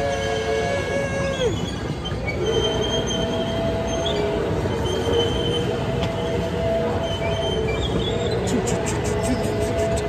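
A train rumbles steadily along the rails, with squealing wheel tones rising and falling over the constant low roar.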